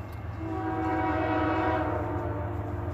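A train passes in Folkston, Georgia, sounding a loud sustained horn over the steady rumble of the rail cars, close and continuous for the full stretch with no voices.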